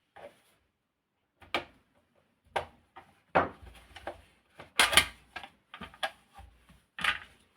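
Small plastic clicks, taps and scrapes come from unscrewing the rear case screw and prying open the back shell of a 1970 National Panasonic R-1493B radio, scattered, close and quiet with pauses between.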